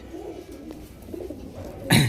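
A female silver-bloodline pigeon, kept among pigeons for sale, gives a soft, low coo close by before a brief louder burst of sound at the end, with no talking.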